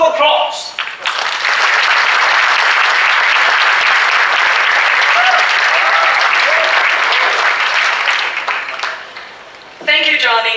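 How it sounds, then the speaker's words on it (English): Dense, steady audience applause greets speaker Jen onstage at the ASUS Computex 2015 event. It swells quickly and holds loud for several seconds before thinning out, with a voice talking briefly just before and just after. "let us welcome Jen with a round of applause"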